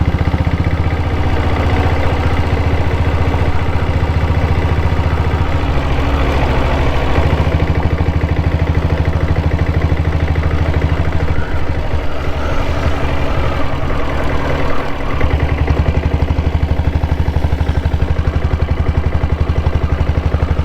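A 7.5HP diesel Bullet Red Deluxe motorcycle engine thumps steadily and loudly while riding along a dirt road, a dense low pulsing drone that stays close and constant throughout with no talk.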